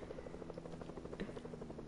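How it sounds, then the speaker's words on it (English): Helicopter in a video game, a steady rhythmic rotor chop heard faint and at a distance that holds a continuous pulse. "Oh, that helicopter."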